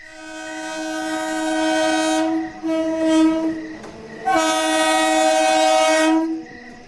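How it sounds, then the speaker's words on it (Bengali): A train arrives at night, sounding its horn in long loud blasts with a short pause between them over the rumble of rail cars. "ওই ওই ট্রেন এসে গেল"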